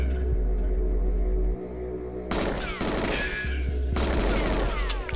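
A gun fires at locks in GoldenEye 64, a few sharp game gunshots over a constant low in-game background hum.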